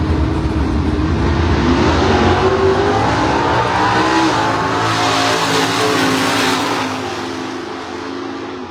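A Camaro drag racing car roars down the strip at a Michigan drag event, loud and sustained through gear changes before fading into the distance at the end.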